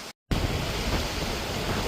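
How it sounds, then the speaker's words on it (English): Waterfall in the Peak District, a steady broad rushing roar, loud and near, starting after a brief moment of silence and continuing without voices. "I've been near the waterfall."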